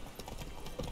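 Horse hooves clip-clop steadily in The Witcher 3, a quick run of close, even beats filling a short moment of gameplay over a soft ambient bed.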